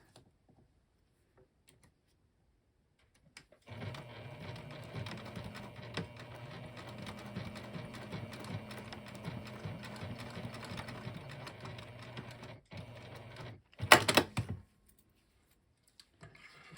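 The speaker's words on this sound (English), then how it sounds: "So I'm just going to sew right there." A sewing machine stitches two lanyard sides together with hardware trapped between them, running steadily with a rapid rhythmic whir for about nine seconds, stopping, then giving a brief louder burst before quiet.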